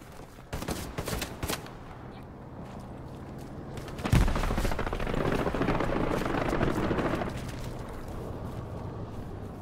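Gunfire in the Hell Let Loose World War II shooter: scattered sharp shots early on, then a loud crack near the middle followed by a dense roar of battle noise that slowly fades.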